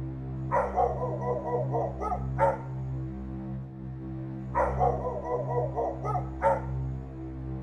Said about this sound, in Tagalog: napansin namin na panay na ang tahol ng mga aso ni lola sa bakuran